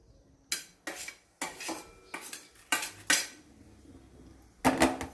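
Chillies and dal dry-roasting in a brass pan over low heat, stirred with a metal utensil: a series of sharp scraping clinks against the pan, about a dozen, irregular and close.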